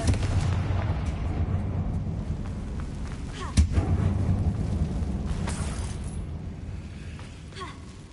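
Confringo fire spell exploding in the video game Hogwarts Legacy, a single sharp boom in the middle over a steady rumbling game ambience with faint distant clatter.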